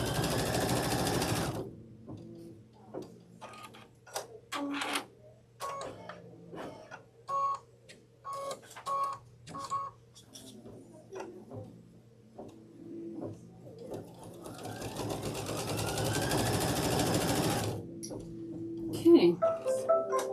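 Domestic sewing machine stitching a quilt seam in a quilting session, bursts of rapid mechanical whirring with pauses between runs, and a longer steady stitching stretch toward the end, close and fairly quiet.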